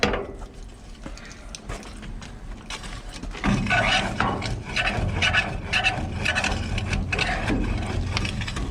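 Burning wood being pushed back into a corner of an outdoor wood boiler's firebox: rough scraping and grinding of a metal tool against wood and steel over a roaring background that grows louder partway through, with no talking.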